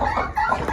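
A chicken clucks briefly as it is herded inside, a short close burst of clucking sounds.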